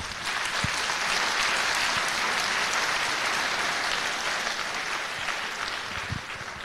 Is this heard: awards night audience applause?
yes